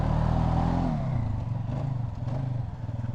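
A Polaris Sportsman 570 ATV engine at full throttle: a loud, close, continuous engine drone that dips in pitch and then settles into a steady pulsing roar, with rattling over it.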